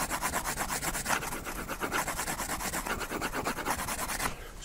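Steady rhythmic scratchy rubbing on a rough gessoed painting surface, close and moderately loud, repeating strokes for several seconds with no voices.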